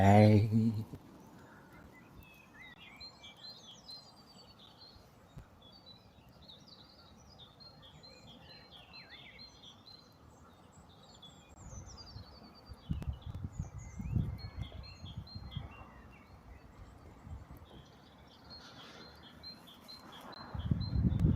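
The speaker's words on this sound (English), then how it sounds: "it would be cool to know what the bird sounds were there" Wild birds sing and chirp throughout at a nature reserve, several distinct high calls repeating at moderate distance over a steady outdoor hush, with low rumbling noise swelling in the middle and at the end.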